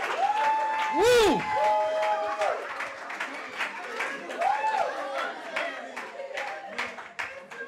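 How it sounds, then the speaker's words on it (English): Applause and cheering from an audience at a live stage show, with whoops and shouts riding over bursts of clapping that swell and fade as people call out. "round of applause for these guys"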